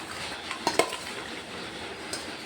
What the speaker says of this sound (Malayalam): ഇനി ഇത് നല്ലപോലെ ഇളക്കി യോജിപ്പിക്കണം.